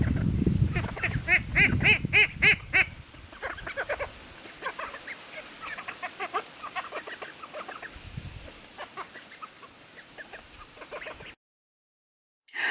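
Loud, repeated honking quacks from a group of ducks close by, bursting at first then settling into scattered, softer calls before silence.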